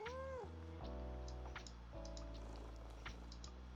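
A cat in the video game Tiny Bookshop gives a short, rising meow at the start, set over steady, sustained background music with light ticking accents.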